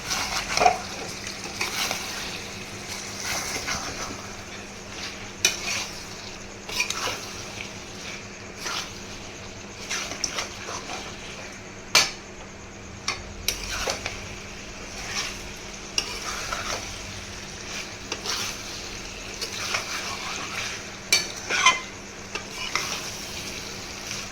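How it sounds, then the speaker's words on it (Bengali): Fried chicken pieces for chili chicken are stirred with spices in a hot pan: continuous sizzling runs under repeated scraping and clacking of the spatula, close and fairly loud throughout, with no one talking. "এবারে আমি ফ্রাই করা মাংসগুলো দিয়ে দেবো। ভালো করে মশলার সাথে মিশিয়ে দেবো।"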